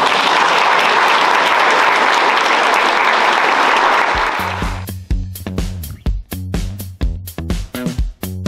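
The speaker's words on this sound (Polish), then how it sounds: "Brawa dla wszystkich." Loud, dense applause from students and guests at a Polish high school prom ball in Grójec, filling the first four seconds before thinning out as a rhythmic dance tune with heavy bass beats takes over.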